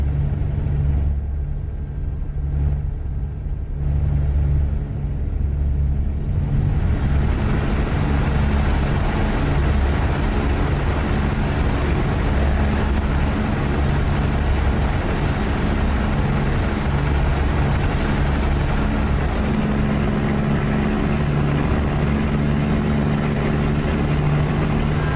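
Deep, throaty engine of a truck in a modded convoy driving game, a loud continuous low rumble that holds steady and fills the whole stretch, with no voices over it.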